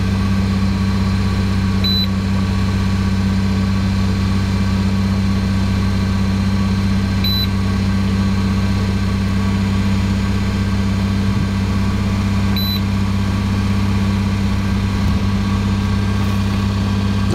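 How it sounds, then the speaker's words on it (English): A car engine idles loudly and steadily close by, a constant low rumbling hum with no change in pace, accompanied by faint periodic electronic chirps. "Since the engine's running."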